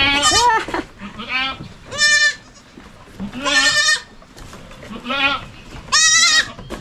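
Goats on a farm bleating loudly and close by, several long wavering calls spaced a second or so apart, with people talking faintly between them.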